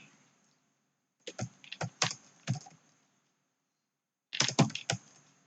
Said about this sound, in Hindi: थोड़ा सा और इसमें मैं टाइप करता हूँ पहले।